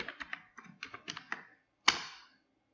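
Keystrokes on a computer keyboard while entering Excel VBA code: a quick run of about a dozen close, light taps in uneven bursts, a pause, then one louder thunk like a spacebar or enter press, with no talking.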